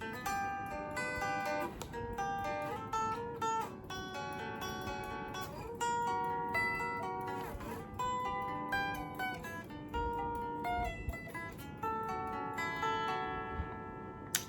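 Electric or acoustic guitar playing the verse and bridge of a song, steady strummed chords and melodic lines ringing continuously at moderate volume with no talking.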